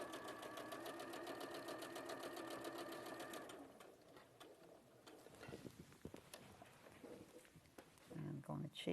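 A sewing machine stitches two pieces of fabric together in a sewing studio, running in a steady rapid whirring rhythm for a few seconds before stopping, followed by quieter handling clicks and a brief renewed burst at the end.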